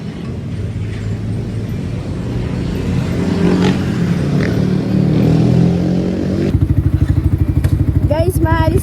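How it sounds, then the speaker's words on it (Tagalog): A motorcycle engine idles and rumbles steadily at close range, its low throb becoming more pronounced and rhythmic toward the end, with faint background chatter and outdoor noise. "Guys, inadmire yung motor ni Benz."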